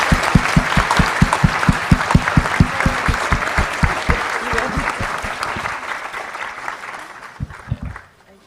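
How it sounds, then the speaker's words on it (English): An audience at a discussion panel claps for the panelists, loud dense applause with a few sharp rhythmic claps up close, swelling then thinning out and stopping with a last couple of claps at the end. "Please give a big round of applause to the excellent panelists"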